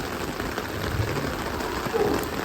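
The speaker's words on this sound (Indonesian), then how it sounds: "hujan-hujan tetap kita terjang" Steady rain falls outdoors where a giant cow is being unloaded from a truck, making a continuous soft hiss of drops on surfaces with no voices.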